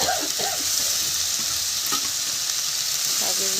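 Leafy greens with thinly sliced potato frying in a hot pan, a loud, dense, continuous sizzle up close with occasional stirring scrapes and faint clinks.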